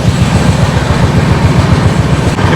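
Rajdhani Express train rolling past another train standing on a loop line at a station, heard from on board as a loud, close, rhythmic clickety-clack of wheels over rail joints, fast and steady.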